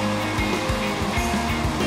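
A tall waterfall in the rain gives a loud, continuous rushing roar, close by, with a low rumbling undertone and no voices.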